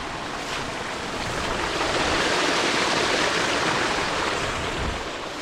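Strong rushing water of a stream pours in a steady, loud roar throughout, a broad even wash with no voices over it.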